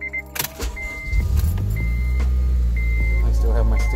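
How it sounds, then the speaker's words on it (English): A 2006 Honda Civic Si being started: a chime beeps repeatedly, the starter cranks briefly and the engine catches, settling into a loud, steady idle close by. "Let's go ahead and start up the car."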